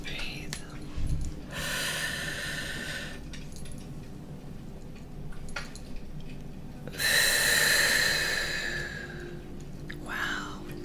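Slow, deep breaths drawn close to the microphone in a quiet room, with long airy inhales and exhales spread across the stretch and short pauses between them.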